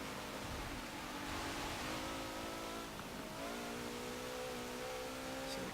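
A 2017 Maserati Levante S accelerates hard in Forza Motorsport 7, its engine note climbing steadily through a rev range with rising harmonic tones. It holds close and loud the whole time, with no talk.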